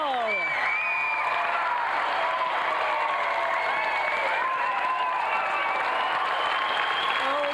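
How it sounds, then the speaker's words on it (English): Studio audience applause and cheering for Paul Tucker on a video game television show, a continuous loud wash of clapping with a presenter's voice over it. "let's have another round of applause for a true Christmas champion, Paul Tucker!"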